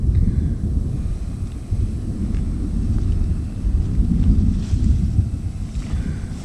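Strong wind gusting through a garden ahead of a storm, a loud continuous low rumble and buffeting roar across the microphone, with no talking.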